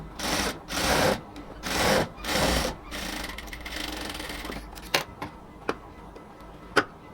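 Sewing machine running in several short stitching bursts while attaching lace to a band collar, then a few sharp ticks and clicks of handling as it stops; close and alone, with no talk.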